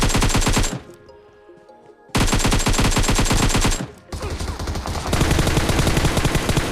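Rapid automatic gunfire in the battle royale game PUBG Mobile, loud, dense bursts of repeated shots broken by brief gaps, then continuing as sustained firing, with no talk.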